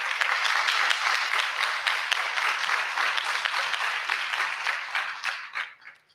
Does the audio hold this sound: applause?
yes